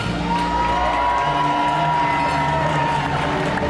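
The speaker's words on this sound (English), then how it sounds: "A cheer for Capitan!" A crowd in the arena at a medieval dinner tournament in Dallas cheers and shouts loudly and continuously, with a tonal musical backing underneath.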